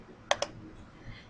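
Two quick, faint keystrokes click on a computer keyboard while numbers are entered into a spreadsheet, followed by quiet room tone.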